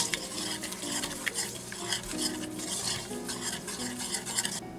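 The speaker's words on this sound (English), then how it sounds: "We'll go ahead and start whisking that together." Whisk stirring melted butter and sugar in a pan over just under medium heat, a steady scraping swirl with light metallic clinks and a faint sizzle underneath, continuous and close.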